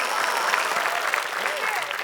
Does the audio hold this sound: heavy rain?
no